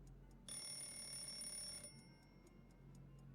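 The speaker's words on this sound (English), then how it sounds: "Have an alarm clock we can ring." An alarm clock rings in the Fallout 76 video game: a bright, steady metallic ring that lasts about a second and a half and then stops, over a quiet background.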